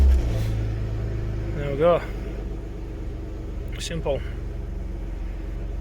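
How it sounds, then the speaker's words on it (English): A BMW E36 engine fired up by a push start button turns over and catches, settling into a low steady idle rumble up close, with someone talking briefly over it. "engine start."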